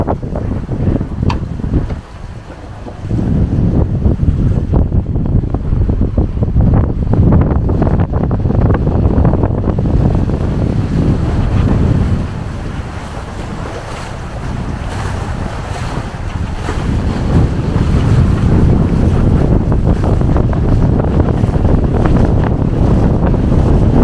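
Sailboat under sail along the coast of Fuerteventura, a loud continuous rush of wind and sloshing waves against the hull with heavy wind buffeting on the microphone, briefly easing midway before building again.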